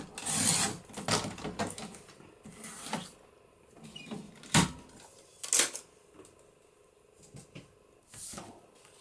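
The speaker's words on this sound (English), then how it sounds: "So I'm trimming that off at 5 inches." A paper trimmer cuts paper at 5 inches for a papercraft project: scattered close slides, clicks and rasping strokes come in uneven bursts with quiet gaps between them, and there is no speech.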